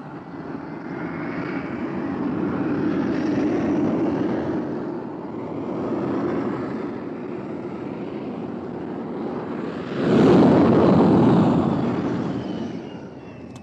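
Spacecraft engines in a science-fiction radio drama: a steady, droning engine rumble runs throughout, swelling louder and rougher near the end as if power increases, with no voices over it.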